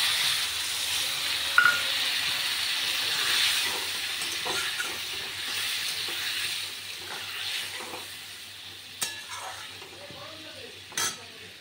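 Soft hiss of masala being sautéed with a splash of water in a pan, with scattered clinks and scrapes of a spoon against the metal, close but fairly quiet, under occasional talk.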